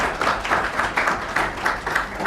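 Audience applause at the close of an international conference on combating piracy, a dense roomful of hands clapping in steady swells that rise and fall across the whole stretch, with no talk over it.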